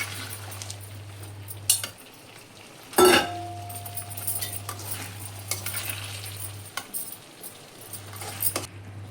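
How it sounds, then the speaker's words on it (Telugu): Fried chicken pieces being added to and stirred into a thick Manchurian sauce in a pan, with spoon scrapes and clinks, a soft sizzle and a steady low hum from the stove in the background. "ఇప్పుడు ఇందులో మనం ఫ్రై చేసి పెట్టుకున్న చికెన్ ముక్కలు వేసేసుకుందామండి"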